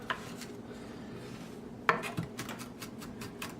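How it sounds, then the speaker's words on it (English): Kitchen knife pressing down through raw chicken wings on a board, giving a sharp clack as the blade hits wood, followed by soft scraping and light utensil clinks at close range. "just take your knife, push down and through"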